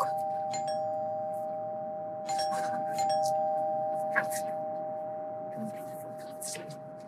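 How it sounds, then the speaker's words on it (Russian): A doorbell rings at an apartment door, a clear sustained electronic tone running through most of the moment, with several short chimes and clicks on top and faint room noise beneath. "и тут звонок в дверь"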